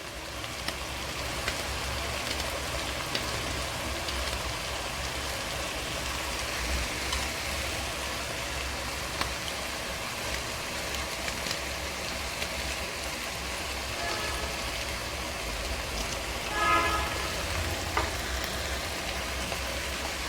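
Whole green chillies sizzle in a hot pan of oil and spices for a Punjabi chicken curry, a steady broadband crackle that stays close and even throughout, with a brief stir near the end.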